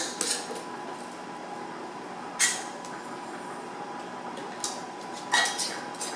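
Metal screw bands finger-tightened onto glass canning jars of chipotle beef, giving a few sharp clinks and scrapes at scattered moments over a steady low background hum, fairly close.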